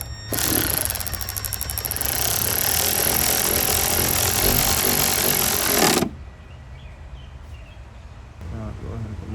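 A power driver fitted with a T15 bit and extension runs loud and steady for about six seconds, backing out the rear bumper reflector screws on a 2021-2026 Chevrolet Tahoe, then stops and leaves quiet background noise.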